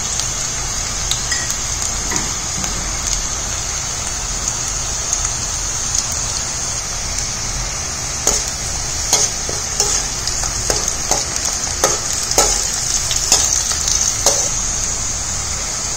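Garlic and cashews fry in oil for tamarind rice, a steady close sizzle with a bright hiss throughout and scattered crackles and pops that grow more frequent toward the end, with no voices.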